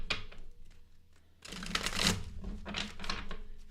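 Tarot cards being shuffled by hand, a few brief riffles at first, then a denser run of flapping, riffling card sounds up close, fairly quiet with no voices.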